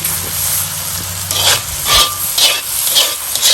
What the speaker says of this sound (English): as you stir the chestnuts in, you can tell the chestnuts are starting to get some color